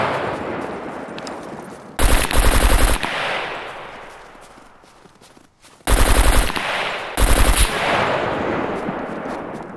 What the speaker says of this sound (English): We're just shooting at each other.